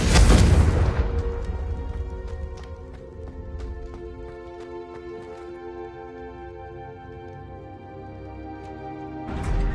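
A Confringo explosive spell cast in Hogwarts Legacy, a loud burst of boom at the start that decays into a ringing, tonal magical hum with scattered faint ticks, ending in another swelling blast.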